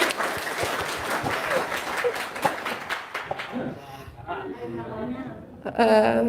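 An audience at a talk about grocery traders bursts into clapping that fades out after a few seconds, followed by someone speaking and then a brief louder sound.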